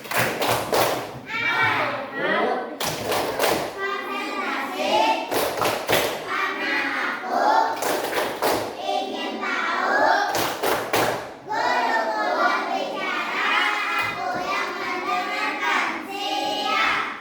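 A group plays the Indonesian 'tepuk konsentrasi' clapping icebreaker, clapping in sharp rhythmic bursts between stretches of chanting voices, the claps landing in quick sets of several beats.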